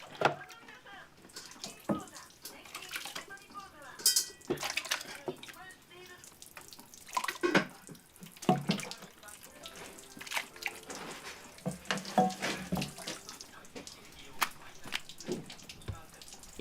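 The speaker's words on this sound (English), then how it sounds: "It takes time to naturally let the water strain through the holes." Water strains and trickles out of a cheesecloth-lined handmade wooden tofu press, a steady soft splashing and dripping that is close but fairly quiet, with a busy background underneath.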